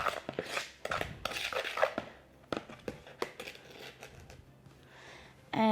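Sugar and cinnamon being stirred in a bowl, a quick run of clinking and scraping from a utensil against the bowl, irregular and fairly close, with no talking.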